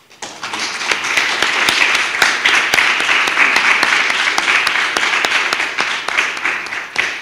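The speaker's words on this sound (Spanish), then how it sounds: "Y yo creo que le tenemos que dar un aplauso." Audience applause for a speaker at a talk on Slavic witchcraft spells and rituals, a dense, even burst of many hands clapping that holds steady for several seconds before tapering.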